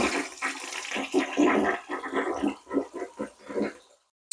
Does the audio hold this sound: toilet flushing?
yes